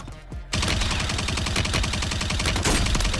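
After a brief quieter moment, Warzone gunfire erupts into a continuous, dense stream of rapid automatic shots that stays loud and close to the end.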